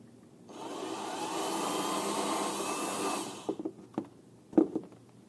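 Power drill stepping up bit sizes toward a 12 mm hole while installing an OEM cargo net in an Acura Integra: a steady whirring drone for about three seconds, then a few sharp clicks and knocks.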